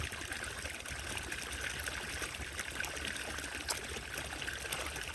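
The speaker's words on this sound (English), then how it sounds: "He's emptying some of the water out." A frog empties water out of a solar fountain outdoors, a soft continuous trickle and dribble of water, faint and steady throughout with no voices.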